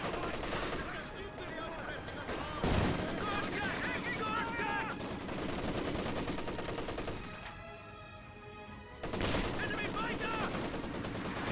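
A strafing run in Company of Heroes 2 sends bursts of rapid machine-gun fire and heavy impacts across the battlefield, loud and dense, with a brief lull before a final volley and a voice talking over it.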